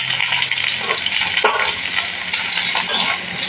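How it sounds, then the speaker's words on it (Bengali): Potato and drumstick pieces fry in hot oil in a wok, a loud steady sizzle with a few sharp scrapes and clinks as they are stirred. "এবার আলু ডাঁটা ভেজে নেব।"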